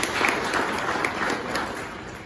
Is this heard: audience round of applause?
yes